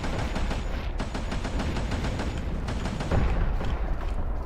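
An artillery weapon on an underwater mech in Codename: Oceankeeper fires in a fast, even volley of repeated shots, loud and continuous for several seconds, ending in a heavier burst.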